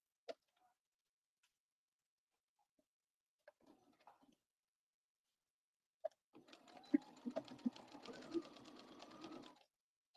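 A sewing machine stitches a bomber jacket seam, running in one quiet burst of fast rattling needle strokes after a few scattered soft clicks and handling taps, faint and close with no voices.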